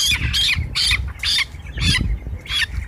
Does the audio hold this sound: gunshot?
no